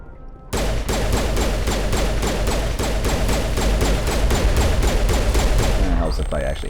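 Assault rifle gunfire in the video game Mass Effect Legendary Edition: a sustained, rapid stream of loud, evenly spaced shots that runs nearly six seconds and then stops.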